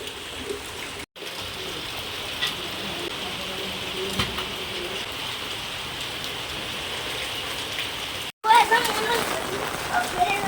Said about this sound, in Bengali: এ দেখো বন্ধুরা, ছাদে থেকে জল পড়ছে